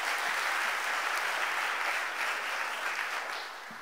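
An audience at the Philadelphia mayor's budget address before City Council applauds, a steady, fairly distant wash of clapping that tapers off near the end.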